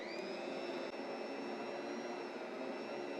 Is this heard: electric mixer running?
yes